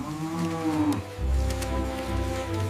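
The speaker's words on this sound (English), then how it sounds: "Guide cows through dense undergrowth toward open area." Cows being guided through dense undergrowth give deep, drawn-out moos, two overlapping calls close by with a low rumbling tone and no talking.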